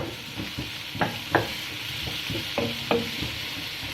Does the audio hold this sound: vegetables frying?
yes